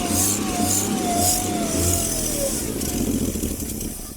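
Rambler car engine, revived after sitting over 30 years, running strongly after a carburetor repair, a loud, close, steady roar with a slight rise in revs and a whining tone fading midway.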